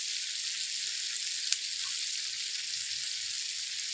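Onions frying in a pan with ginger-garlic paste give a steady, close, crackling sizzle that stays even throughout, with one small sharp click partway through.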